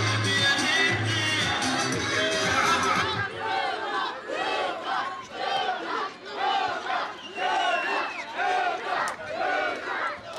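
Football crowd at an outdoor tournament match shouting and chanting in rhythmic, repeated bursts, loud and roughly evenly spaced, with a voice over the crowd at the start.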